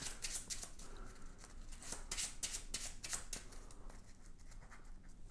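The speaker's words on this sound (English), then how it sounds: "everything else gets shuffled back into the deck" Playing cards from a Death Valley board game being shuffled back into a deck, a run of quick crisp riffling bursts up close that settle into softer sliding rustle toward the end, with no talking.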